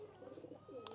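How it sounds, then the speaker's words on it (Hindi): Punjabi pigeons cooing in a short, soft run of low rolling coos, near and alone, with a brief brighter flutter near the end. "ये जो पंजाबी कबूतर है"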